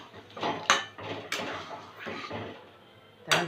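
A spoon scrapes and knocks against a pot while aloo dum, a potato curry, is stirred, giving a series of irregular clinks and scrapes at close range with no talk.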